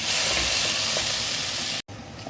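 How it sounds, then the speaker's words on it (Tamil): Chopped tomatoes sizzle steadily in a hot pan of broad bean kuruma base, a loud, close, continuous frying hiss that breaks off briefly near the end and resumes. "இப்போ நான் தக்காளி ஆட் பண்ணுறேன்."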